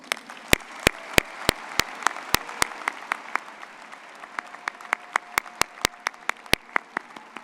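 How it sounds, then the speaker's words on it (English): Sparse applause at a May 2025 commencement ceremony: a modest crowd claps in scattered, distinct sharp claps that stand out individually and keep going throughout, with no voices. "Please show me in giving them all a round of applause."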